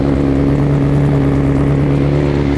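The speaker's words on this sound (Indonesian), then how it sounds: "Ini masih dingin banget, masih cold start, pasti akan tinggi RPM-nya" A 2023 BMW S 1000 RR motorcycle engine runs cold just after starting, holding a high idle. It makes a loud, steady, close-up drone that never lets up, with no voices.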